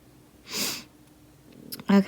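A couple of close, breathy sniffles, one near the start and a sharper pair at the end, faint in a quiet room.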